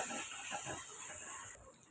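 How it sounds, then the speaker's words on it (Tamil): Chopped onions sautéing in a pan for an egg curry, giving a steady, close sizzling hiss that runs unbroken and fairly loud, easing slightly near the end. "ஒரு அஞ்சு நிமிஷம் நல்லா வதக்கி எடுத்துக்கோங்க"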